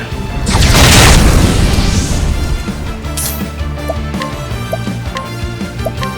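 A fire spell attack from the Octopath Traveler video game bursts in with a loud whooshing boom and crashing flare, then dies into a softer crackling tail with sparkly chimes.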